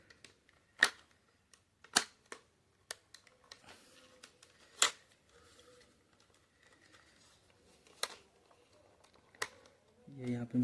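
Cap being pressed back onto a Canon 2900 printer ink cartridge after refilling, a series of sharp plastic clicks and taps spaced irregularly in a quiet room, with a rustling handling noise at the end.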